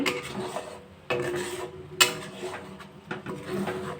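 Thickening milk stirred in a pot for mango chhana payesh over a low flame, with close scraping and rubbing strokes and a few sharper clinks of the spoon against the pot.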